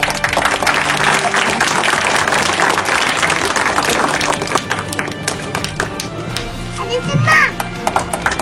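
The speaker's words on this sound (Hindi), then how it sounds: "जोरदार तालियां।" Loud, dense audience applause at a social gathering and felicitation ceremony, sustained clapping over the whole stretch with some crowd noise mixed in, easing slightly toward the end.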